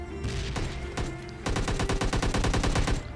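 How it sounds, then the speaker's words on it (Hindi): Rapid automatic gunfire from enemies outside in a driving video game, loud and close with a fast regular rhythm of shots over a continuous game soundscape. "और बाहर से बंदों की फायरिंग भी।"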